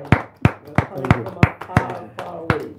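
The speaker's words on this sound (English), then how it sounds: "we really need to give you a massive round of applause" A round of applause for a studio guest on a talk show: sharp, evenly spaced claps ring out close and loud, about three per second.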